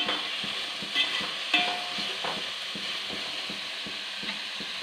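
Onions sizzle steadily in a hot pan while being sautéed toward light brown for a chicken roast, with regular scraping stir strokes from a spoon close by and no talking.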